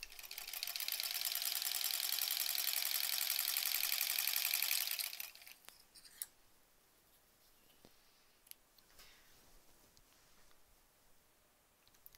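Scissors snipping through quilt fabric with a steady, fast run of close cutting sounds for about five seconds, then stopping, followed by a few faint clicks and handling noises in a quiet room.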